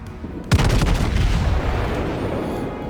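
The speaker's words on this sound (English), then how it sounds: "Fire off the full broadside." The battleship Amagi fires a full broadside in the naval game World of Warships: a sudden heavy boom of guns, followed by a long rumbling roll that fades slowly, with a faint whistle near the end.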